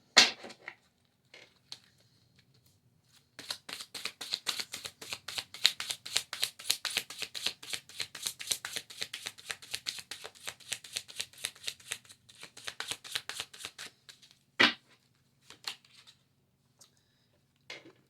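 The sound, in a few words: shuffling animal oracle cards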